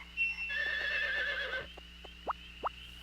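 Horse neighing in the Nintendo 64 game Harvest Moon 64: a short synthesized whinny with wavering pitch, followed by a few light clip-clop hoof sounds, clean and game-like.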